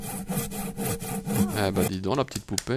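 A saw cutting cardboard in the video game True Fear, rhythmic back-and-forth rasping strokes under French talk from a child and an adult.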